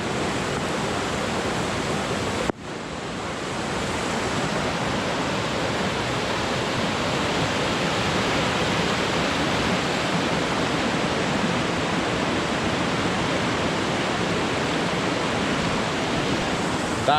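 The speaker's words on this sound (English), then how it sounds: "I hope you can hear me over the sound of the water down there. It's really loud, really echoing down the gorge." Loud rushing water roars steadily up from the bottom of a gorge near an abandoned slate quarry, a dense unbroken wash of noise that continues after a brief cut at the start.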